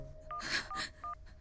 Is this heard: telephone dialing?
yes